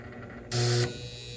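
A faulty contactor in a Goodman package unit lets out a sudden loud electrical buzz for about a third of a second, sharp and close, then drops back to a low background hum.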